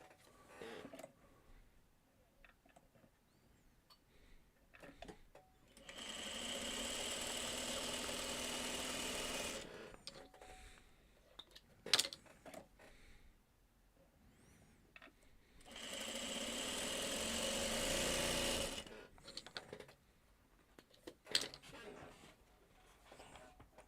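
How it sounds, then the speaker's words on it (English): A sewing machine stitching a half-square triangle for a Farmer's Wife quilt block, whirring steadily in two long bursts of several seconds each, separated by quieter handling noises and brief clicks. "now we sew down the other side"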